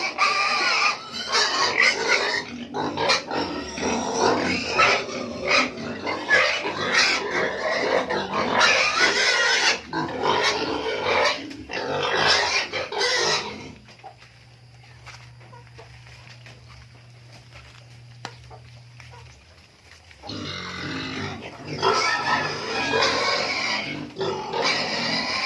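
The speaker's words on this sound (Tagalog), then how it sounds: "Gawa ng kakatayin yung isang baboy dyan." Pigs grunt and squeal loudly and almost without pause on a small family mini farm, a hungry pen waiting before feeding, with a short quieter stretch carrying a low steady hum before the busy grunting resumes.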